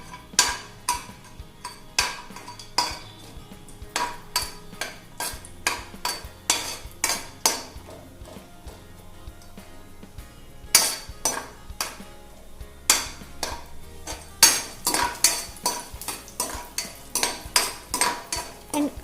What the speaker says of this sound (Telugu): కాజు యాడ్ చేసుకోవాలి కాజు కొంచెం ఫ్రై అయ్యాక నెక్స్ట్ బాదం వేసుకోవాలి